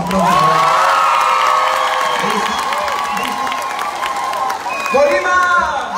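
A festival concert crowd at the Festival Internacional del Volcán claps and cheers loudly, with whoops and shouts rising over steady applause while a voice carries over the noise.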